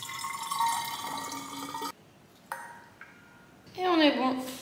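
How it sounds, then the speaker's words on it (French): A small water bottle being filled from a tap, with a running-water stream that briefly stops and restarts, ending in a rising gurgle as the bottle fills up. "je vais remplir ma petite bouteille d'eau"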